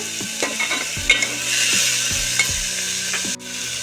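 Onion, tomatoes and green chillies cook in a pan for raw mango dal, with a constant sizzle and a run of close, rhythmic spatula scrapes that end abruptly.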